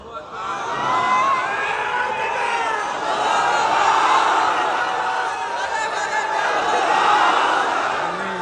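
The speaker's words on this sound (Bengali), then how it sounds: "রবের নামে তাকবীর দেন।" A large crowd at a Bangla waz gathering chants takbir together, a loud, dense swell of many voices that holds steady almost the whole time.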